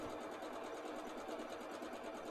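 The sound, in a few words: sewing machine chain sewing quilt squares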